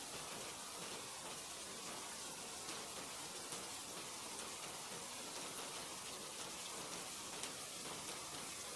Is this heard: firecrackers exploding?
no